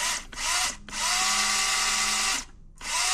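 Brushless motor of a 1:18 scale Redcat RC crawler spinning its wheels, a close high-pitched electric whine in three bursts separated by brief pauses.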